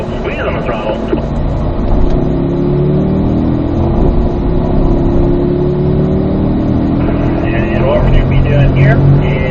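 Race car engine accelerating on the Spring Mountain North Course track, a steady loud drone with rising pitch sweeps as the throttle is squeezed, with wind and road noise throughout.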